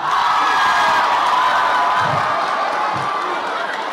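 Audience at a Nigerian comedy show cheering and shouting in a dense, loud, continuous wash of crowd noise with some clapping.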